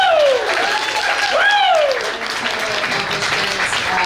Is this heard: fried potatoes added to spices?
no